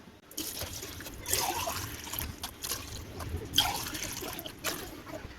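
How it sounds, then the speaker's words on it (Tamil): Water poured into a pot of rice for beef biryani, a faint trickling and splashing pour with a few brief louder surges, heard alone. "இப்போ தண்ணி சேர்த்தாச்சு"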